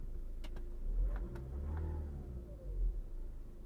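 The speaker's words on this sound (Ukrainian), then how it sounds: "Двигун працює чітко" A Skoda Octavia A5 with automatic transmission idles with a steady low rumble, running cleanly, the pitch rising slightly in a couple of gentle swells, close by with no voices.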